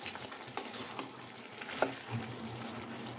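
Ridge gourd sizzles and is stirred in a hot pan, a steady frying hiss broken by a few soft scrapes and knocks of the spatula, with no talk.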